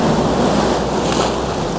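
Big ocean waves crash and wash along a seascape shoreline, a loud, dense roar of surf with wind buffeting close to the microphone and no voices.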